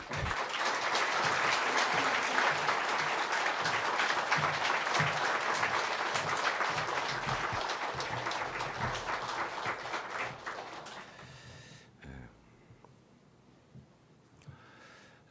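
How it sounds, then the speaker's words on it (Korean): Sustained applause from a large church congregation at a worship service, steady and dense for about twelve seconds before dying down into scattered claps and quiet. "여러분 박수로 환영해 주시면 감사하겠습니다"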